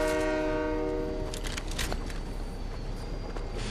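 A train rolling along in the Fortnite video game, a loud steady rumble with a sustained horn-like tone early on and rattling clatter throughout, with no talking.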